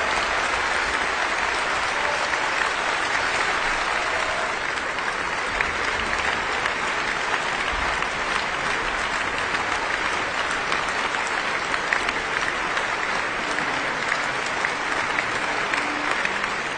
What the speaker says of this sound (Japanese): 割れんばかりの拍手、それは音楽家への最高の賞賛です。